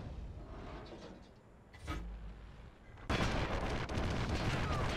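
A Wespe self-propelled artillery gun fires in World of Tanks, a heavy boom near the two-second mark, followed later by a sudden loud burst of rumbling battle noise that holds to the end.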